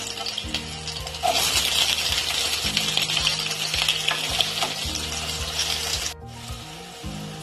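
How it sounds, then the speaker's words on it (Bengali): Potatoes frying in hot mustard oil, a loud continuous sizzle with stirring scrapes, steady throughout before dropping slightly near the end. "তেলের মধ্যে আলুগুলো দিয়ে ভেজে নেব লাল করে।"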